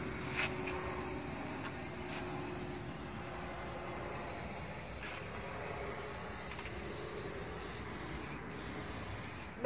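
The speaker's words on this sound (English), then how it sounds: "You shouldn't spray paint in the sunshine." Continuous hiss of a spray gun applying paint to a metal panel of a shuttle bus in sunshine, steady and close, with a few short pauses and shifts in the spray.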